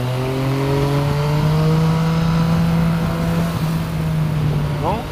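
A motorcycle engine drones steadily on a road, its pitch holding then shifting slightly as it passes nearby, loud and continuous, with people talking inside a vehicle underneath.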